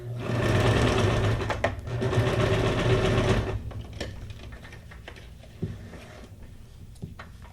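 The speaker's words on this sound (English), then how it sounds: "I'm going to sew this on to make sure it stays." A sewing machine runs a straight stitch through junk journal ephemera, loud and steady for about three and a half seconds with a brief pause, then stops, leaving quieter handling clicks.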